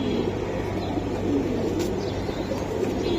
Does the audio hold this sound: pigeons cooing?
yes